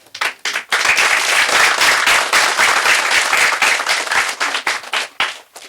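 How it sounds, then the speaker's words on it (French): A crowd at a wrestling event applauds loudly and steadily for several seconds, then the clapping thins into scattered claps before stopping. "il faut les applaudir très, très, très fort"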